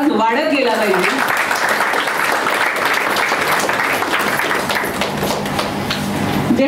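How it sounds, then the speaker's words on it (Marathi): Audience clapping at a book lovers' gathering, a dense, sustained wash of applause that stays loud throughout, with a voice briefly audible at the start. "पुस्तक हातात घेताना आणि ओळख होताना टाळ्यांचा आवाज वाढत गेला पाहिजे."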